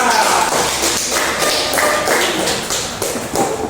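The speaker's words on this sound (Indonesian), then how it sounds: "Kita kasih aplaus kepada kelompok 2." A classroom audience applauds a presenting student group, a loud, close, dense patter of hand claps that continues steadily without letting up.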